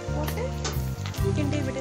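A kneaded tempering paste hits the hot pan for pulicha keerai curry, sizzling loudly at close range while a spoon stirs it in quick scraping strokes.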